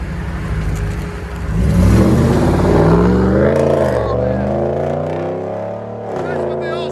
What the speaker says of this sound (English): Muffler delete with resonator still on it.